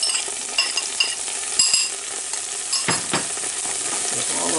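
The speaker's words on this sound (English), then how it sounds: "we're just searing it a little bit to get a little brown" A rump roast sears in olive oil with mashed garlic in a Power XL pressure cooker, giving a steady, close, hissing sizzle with a few brief scrapes and stirring sounds.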